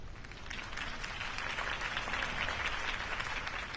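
A crowd applauds steadily, dense clapping from many hands filling the space at moderate volume without letting up.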